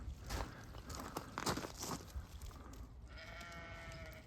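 Sheep bleat several times on a farm around dipping time, with footsteps crunching on the ground and steady outdoor noise beneath.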